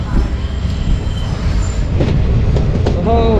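A train rumbles through Hamiltonganj railway station in North Bengal with metallic wheel squeals and clatter, loud and close, with faint voices in the background.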